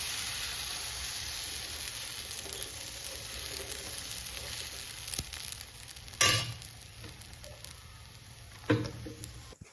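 Urad dal dosa batter fries on an oiled griddle with a steady, close sizzling hiss, broken by two sharp louder bursts of crackle partway through, with no talking.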